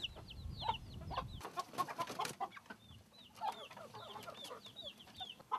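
Several hens of mixed breeds, including Araucana, cluck repeatedly at close range on a farm, with other birds chirping throughout and no one talking.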